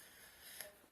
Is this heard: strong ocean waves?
no